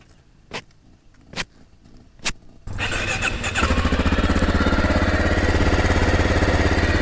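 A Honda XR650L adventure-build motorcycle: a few separate clicks or knocks, then the single-cylinder engine fires up and settles into a loud, steady, thumping idle close by.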